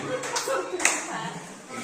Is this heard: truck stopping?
no